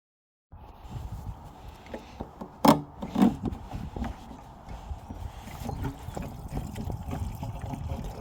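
Premix fuel pours from a gallon container into a Yamaha XL1200 jet ski, a faint, steady trickle with a couple of sharper knocks from the container early on.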